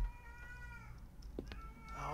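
A cat meows in the horror video game Erie, a short distinct cry heard faintly against a quiet, low-level ambient background with no talking.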